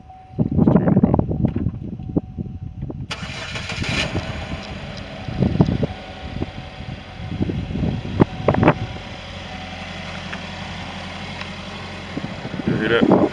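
A 2011 Chevy Equinox with an Ecotec 2.4 engine and cam phaser timing trouble starts and runs outdoors, a low steady idle beneath gusty wind buffeting the microphone and occasional handling bumps.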